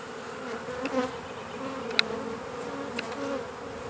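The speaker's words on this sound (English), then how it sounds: "Just shaking a few bees off where the queen might be." Steady buzzing from many honeybees at an open hive hums throughout, with a few soft taps and bumps near the start and middle as bees are shaken off a frame.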